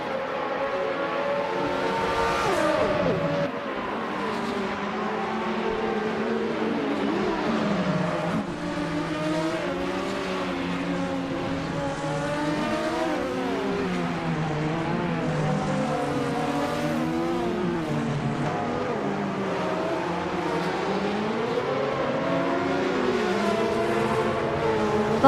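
Group C2 prototypes and retro DTM race cars roaring around the track in a video game race, several engines whining and shifting pitch together continuously, up close and loud with no pauses.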